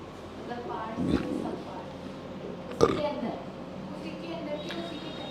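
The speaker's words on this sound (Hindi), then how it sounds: "पता कैसे लगेगा कि डकार मारी थी?" Someone burps during an online biology class. Two short, gurgling eructations stand out over a faint background, and people talk at a low level around them.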